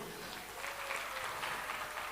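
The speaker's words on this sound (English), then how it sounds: "Please give applause for us today." An audience applauds at an Indonesia and Korea Gen Z cultural exchange event, heard as a faint, distant, even wash of clapping with no distinct individual claps.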